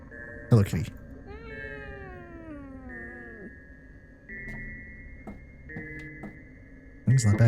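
A cat meows in the horror video game Fears to Fathom: one long, wavering, descending meow, close and clear, over a steady electronic tone and a few soft knocks, with a short burst of sound at the start and end.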